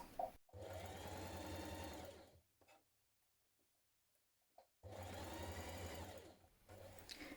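A sewing machine stitches an underarm dart on a jumpsuit bodice in two close bursts of rapid rattling stitches, separated by a quiet pause with small clicks of fabric handling and followed by a brief final run.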